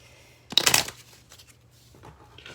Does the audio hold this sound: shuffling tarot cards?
yes